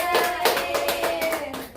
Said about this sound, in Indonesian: Tepuk tangan untuk Kia.